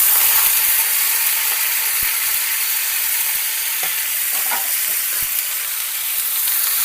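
Onion, tomato, green chilli, coriander and curry leaves go into a frying pan for Karnataka-style vaggani, producing a loud continuous hissing sizzle with a few faint clicks and scrapes and no voices.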